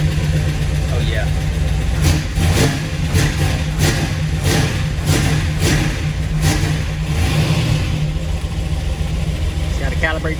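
Oldsmobile Cutlass engine running close by with a steady low idle rumble and a few short throttle blips lifting the revs, no clear speech over it.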